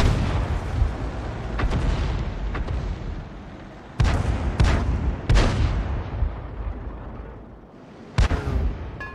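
An M41 HMC self-propelled artillery gun in the World of Tanks video game: several deep, loud booming shots with rumbling tails, at about 4, 5 and 8 seconds, over a dense background roar.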